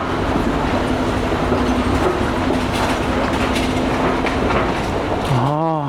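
An old Eurotunnel shuttle train rumbles steadily through the Channel Tunnel with a constant loud roar and rail clatter. A rising whine sweeps in near the end.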